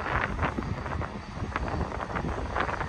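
Gusty wind buffeting an open outdoor spot at Cajon Junction, California, a rough, close, steady roar with brief louder gusts and no talking.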